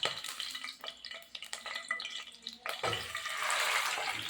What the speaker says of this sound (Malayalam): ഇനി നമുക്ക് നമ്മുടെ ചിക്കനെ അതിനകത്തേക്ക് ഇട്ട് കൊടുക്കാം.